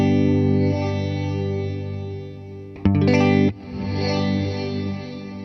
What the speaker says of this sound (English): the basic sound, your classic reverse reverb tone